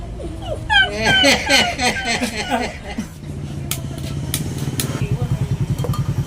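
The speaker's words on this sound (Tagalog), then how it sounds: "tuta." A puppy whimpers and yips in a rapid series of high whines, close and fairly loud, followed by a steady mechanical buzzing rattle.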